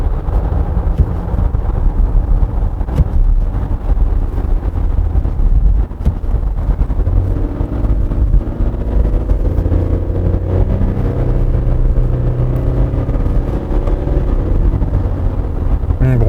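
A 2020 Kia Mohave V6 diesel engine drones after a downshift without speeding up, a loud, steady low rumble whose pitch rises gradually, with wind and road noise inside the cabin and no talking.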